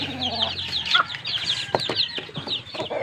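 Young chicks being raised peep in rapid, high, repeated chirps close by, overlapping one another, with a few lower clucks and short knocks mixed in and no talk.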